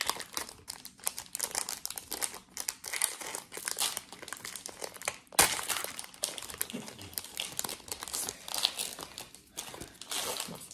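A Pokémon Go trading card pack is torn open and its foil wrapper crinkled and crunched, steady close rustling throughout with one sharp tear midway, no voices.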